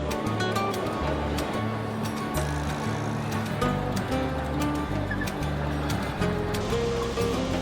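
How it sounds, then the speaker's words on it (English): Indoor waterfall inside the Dubai Mall, a steady broad rush of falling water filling a large echoing space, heard at moderate distance, with faint crowd murmur beneath. "We heard there was a waterfall in here"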